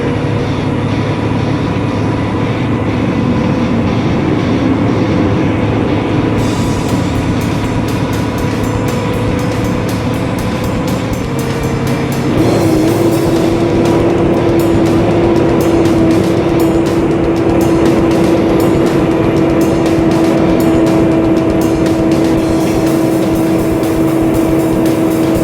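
A heavily loaded semi truck cruises along a highway at speed, its steady engine drone and road roar continuous, with a gear shift partway through settling into a sustained higher engine tone.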